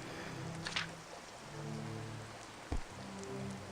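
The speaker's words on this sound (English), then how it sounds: "the rain sound is really soothing" Rain ambience from the video game Flare: Empyrean, a steady soft patter that holds through the clip under low sustained music tones, with a couple of brief sharper ticks.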